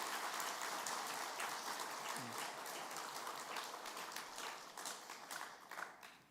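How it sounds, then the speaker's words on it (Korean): A church congregation applauding steadily during a Sunday service, many hands clapping together in a continuous wash that tapers slightly toward the end, with no voices over it. "우리 박수로 한번 격려하겠습니다"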